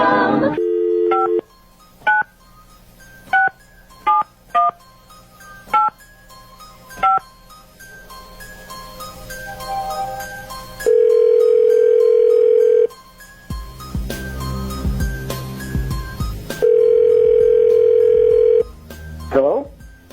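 Dialing tones sound as a number is dialed at random by phone for a radio show: a quick burst of tones, then a series of single, evenly spaced beeps, followed by long steady ringing tones with a pause between them.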